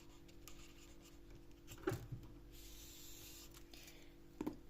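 Chalk or marker writing on a board during a biology lesson on asexual reproduction, a few short faint scratching strokes against a quiet room hum, with no talking.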